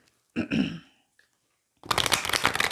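Oracle cards from a white light deck being shuffled in two bursts, a short riffle near the start then a longer, brighter stretch of rapid papery flicking after a pause, close and fairly loud.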